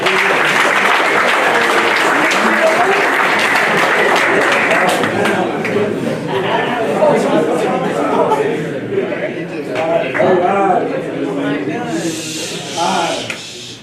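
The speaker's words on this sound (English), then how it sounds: "Let's clap it up for those guys." Sustained applause from an audience at a football academics meeting, loud and steady at first, then thinning with scattered claps and voices talking over it.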